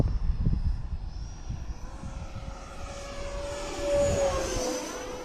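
An E-Flite Viper 90mm model jet whooshes past overhead, its whining engine tone sweeping in pitch as it passes, heard from the ground at moderate distance.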